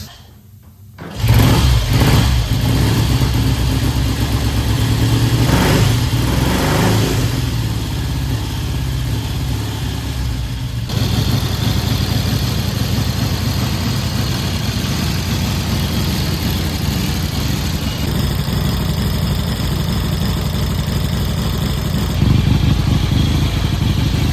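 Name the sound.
1967 Triumph T100C motorcycle engine running after first start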